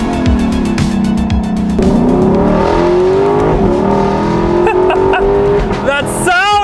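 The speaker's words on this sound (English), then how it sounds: "The 5-liter V8 from Lexus is a phenomenal engine." A 2023 Lexus LC500's 5-liter V8 of 471 horsepower revs loud and close, its tone climbing and settling through several rises, with sharp crackles and a final surging rev at the end.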